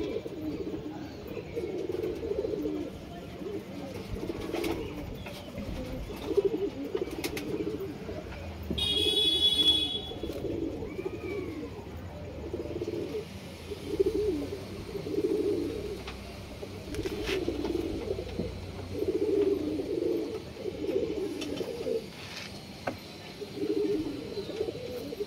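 Domestic pigeons coo repeatedly in a pigeon house, soft low rounded calls recurring steadily through the stretch at moderate distance, with a brief higher chirp partway through and faint background hum.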